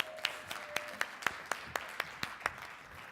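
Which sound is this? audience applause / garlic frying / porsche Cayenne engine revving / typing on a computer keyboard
audience applause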